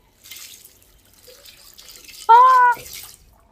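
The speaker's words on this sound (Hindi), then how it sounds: "पहले ही 3 दफा कप धो चुके हैं आप।" A kitchen tap runs while a cup is rinsed in an indoor drama scene: a soft, close splashing trickle, joined briefly by a short ringing clink of the cup near the end.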